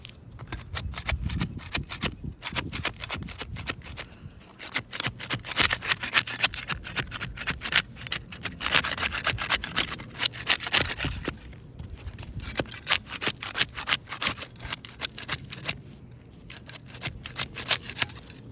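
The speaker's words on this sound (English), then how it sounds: "We use the putty knife to unseal the top shingle." A putty knife scrapes and pries along asphalt roof shingles to break their seal, giving a steady run of dense scratchy strokes, close and fairly loud, with no talking.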